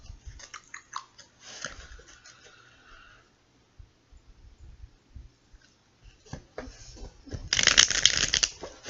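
Tarot cards being shuffled in several bursts of rapid crisp riffling, with quiet pauses between and a louder flurry near the end.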